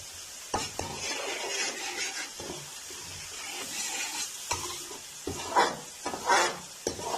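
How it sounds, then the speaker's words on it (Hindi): Spices with kasuri methi and garlic fry in a pan, a soft sizzle broken by repeated scrapes and stirring strokes of a spoon against the metal. "तकरीबन 30 सेकंड के लिए हम जो मसालों को भून लेंगे।"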